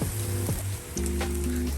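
Pork sizzles steadily on a hot grill pan at a mountain campsite, a dense crackling hiss with low background hum throughout.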